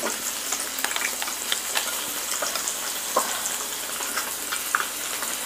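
Steady crackling sizzle of an egg frying in hot oil in a pan, a dense continuous spatter with small pops throughout, close and fairly loud, with no talking.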